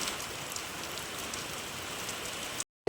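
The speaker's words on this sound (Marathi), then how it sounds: "थोडा पाऊस चालू आहे" Steady rain falls in a continuous soft hiss at a moderate distance, unbroken for over two seconds before cutting to silence, with no voices.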